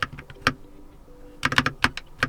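Soft, muted keystrokes on a Keychron K2 mechanical keyboard with lubed switches come in two short bursts of quick taps separated by a brief pause, close and fairly quiet.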